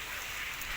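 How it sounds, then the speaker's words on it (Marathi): Heavy rain pours down in a steady, dense hiss, loud and close, with no voices over it. "आज आपल्या इथं पाऊस चालू आहे"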